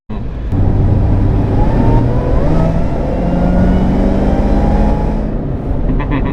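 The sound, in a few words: 800 horsepower supercharged car engine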